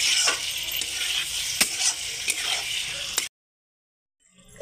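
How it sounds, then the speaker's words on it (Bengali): Pieces of meat sizzle loudly while being stirred in a hot pan, with scraping strokes over steady frying, before the sound cuts to silence near the end. "মাংসটা দিয়ে একটু ভালো করে মিলিয়ে ছিলিয়ে কিছুক্ষণ ভেজে নেব"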